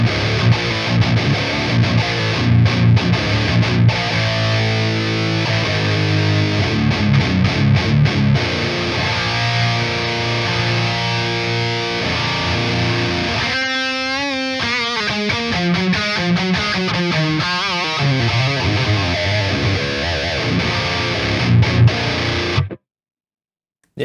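High-gain electric guitar through a Dual Rectifier amp sim with Barefoot impulse responses, heavily distorted chugging riffs and sustained chords, loud and continuous, then cutting off abruptly.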